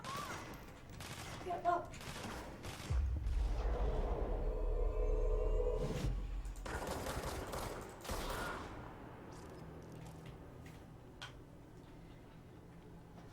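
Gunfire in the video game Control, rapid bursts of sharp shots and a stretch of heavy rumbling, with a brief spoken line among the action.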